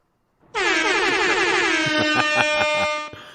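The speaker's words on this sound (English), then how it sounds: "I gave it even gave it air horns on that one." A loud, blaring air horn blast holds for about two and a half seconds, with a rapid stuttering pulse in its second half.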